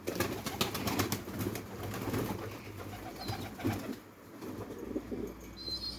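Pigeons gather at scattered feed, giving soft, low cooing calls close by, with some rustling and brief wing movement amid faint outdoor background noise.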